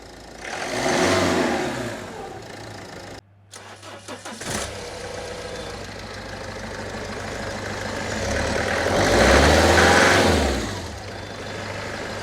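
A Citroën Berlingo Multispace engine runs steadily close by, with a broadband, smooth mid-pitched note that swells at about one second and again near ten seconds, a short gap at around three seconds between.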